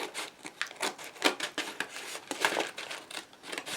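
Scissors cut into a heavily taped, overstuffed parcel box, giving a series of short snipping and crinkling bursts at an uneven rhythm, close and moderately quiet.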